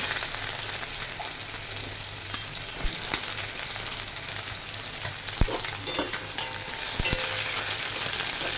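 Onion and garlic fry in hot oil in a pan, a steady close, loud sizzling hiss with a few sharp clinks and stirring knocks of a utensil against the pan.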